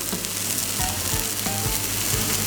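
A cured, smoked swordfish fillet fries in a pan with a loud, dense, unbroken sizzle, close to the listener.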